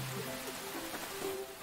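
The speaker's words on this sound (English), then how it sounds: "Oh, looks like rain." Cartoon rain sets in as a steady wash of falling drops, soft and evenly spread, under faint tonal background music.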